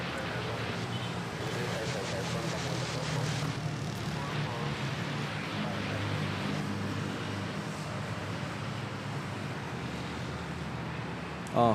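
A Cebu Pacific airliner takes off at Manila Airport, a sustained broad engine roar heard from a distance that holds steady throughout with faint wind noise.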